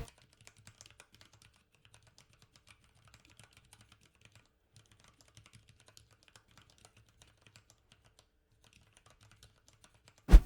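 Rapid, fairly quiet keystrokes on Cherry MX Red linear keyboard switches patter steadily for about ten seconds, with no one talking, ending in a single louder thump.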